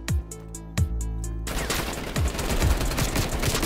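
Rapid gunshots from a gun game video game, two sharp isolated shots followed by a dense, loud burst of continuous automatic fire with repeated impacts.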